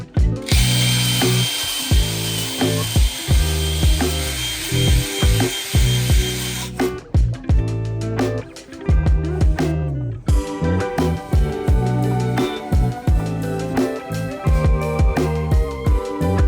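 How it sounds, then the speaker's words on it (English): A cylinder hone works the bores of a 300 HP turbo race engine block, giving a loud, steady mechanical grinding and ratcheting chatter with irregular clicks throughout, no voices. "we need to hone them so we can get a better idea on the actual surface"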